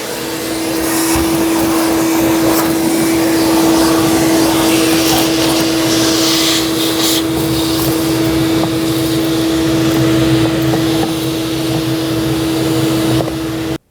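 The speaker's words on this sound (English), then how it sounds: "get a vacuum," A vacuum cleaner runs at a loud, steady whine while it cleans out the cabin air filter housing of a 2012-2019 Fiat 500, close and continuous with slight shifts in pitch as the nozzle moves.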